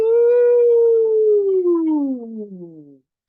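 A single voice imitates a siren, holding a steady pitch before sliding down and fading out over about three seconds, close and clear, during a swallowing-exercise session.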